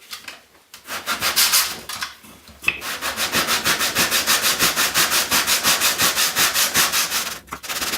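Hand sanding along the router-cut edges of a wooden fossil shadow box hooked over a bench edge, steady rhythmic rasping strokes back and forth, close and loud, with no talking.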